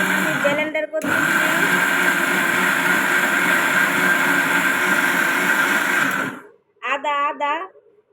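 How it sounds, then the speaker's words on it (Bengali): A new, heavy electric blender grinding ginger whirs loudly and steadily for about five seconds, then cuts off abruptly, followed by a person talking. "এখন আমি ব্লেন্ডার করতেছি।"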